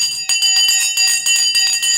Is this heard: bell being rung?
yes